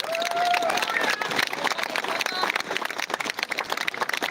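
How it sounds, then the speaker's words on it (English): A rally crowd claps and cheers in a long, steady wash of applause, moderately loud, with a short whistle near the start and voices mixed into the noise. "Give yourselves a round of applause."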